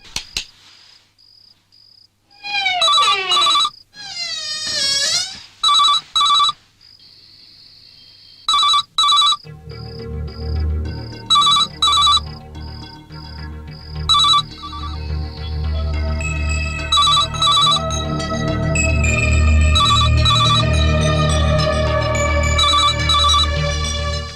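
An electronic phone ringtone chirps in repeated bursts, then a melodic tune swells louder and fuller, ringing on continuously without anyone answering.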